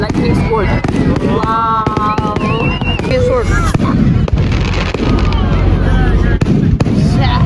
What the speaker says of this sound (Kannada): ಫೈರ್ ವರ್ಕ್ಸ್ ಚೆನ್ನಾಗಿದೆಯಾ?